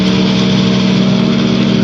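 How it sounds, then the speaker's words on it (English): A Challenger II ultralight aircraft engine runs loud and close in a steady, buzzing drone at a sustained pitch, with no talk over it. "Slowly rev the engine up."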